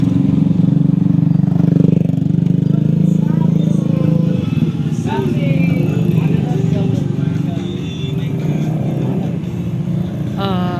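Motorcycles of a motorbike club at Karang Bokor beach in Sawarna, Banten, rumble and rev in the background while people talk nearby over a busy crowd.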